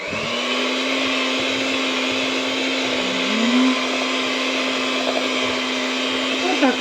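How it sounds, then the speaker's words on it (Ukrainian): A blender runs continuously, puréeing cooked vegetables with meat and mushrooms into a smooth mass, its motor a loud steady whine with a brief pitch shift partway through. "збити все до однорідної маси"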